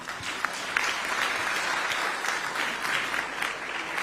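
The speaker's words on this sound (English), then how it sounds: "Can you give them a round of applause?" Steady audience applause at an ICT summit, a dense wash of many hands clapping continuously for several seconds, evenly loud with no voices rising above it.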